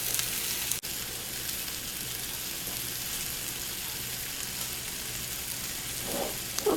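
Verde hot sauce simmering under a lid in a pot on a stovetop at medium heat, a steady soft hiss and bubbling throughout with one brief click early on.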